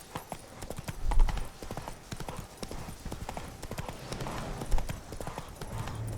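Horse hooves clip-clopping at a steady gallop through The Witcher 3 game world, a brisk continuous rhythm of close hoofbeats with occasional heavier thumps, no talking.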